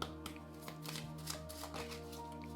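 A deck of astrology tarot-style cards is riffled and shuffled with quick, soft flutters and small taps, quiet and close.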